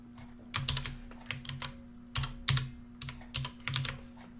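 Bursts of quick keystrokes clatter on a computer keyboard, close up, in short irregular clusters separated by brief pauses over a faint steady hum.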